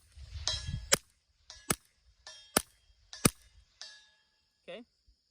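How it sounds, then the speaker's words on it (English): Rifle shots fired through a Burris RT-3 prism sight: four sharp, loud cracks spaced under a second apart, each trailing a brief metallic ring, with a fainter higher ping at the end. "So let's do some shooting."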